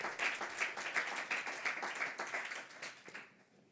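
A conference audience at an open innovation round table claps for a panelist being introduced, crisp individual claps blending into a lively burst that thins out and fades toward the end.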